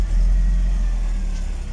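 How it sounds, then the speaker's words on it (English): A BMW E36 engine runs with its exhaust note, a loud, steady, deep rumble held close to the microphone for a couple of seconds with no voices. "Let me hit you with a startup so that you guys can hear it."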